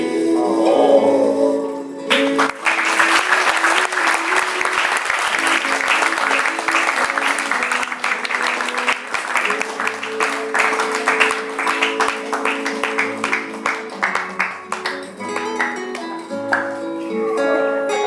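An audience at a Lubdaka Siwaratri 2025 storytelling performance bursts into sustained applause. Many hands clap loudly and close for most of the stretch, then thin into scattered claps near the end.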